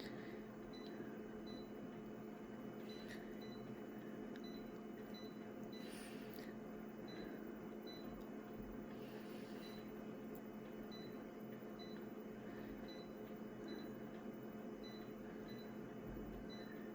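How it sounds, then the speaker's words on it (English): An electronic device in a quiet room repeatedly emits short, faint high beeps at regular intervals over a low steady hum. "And it keeps beeping."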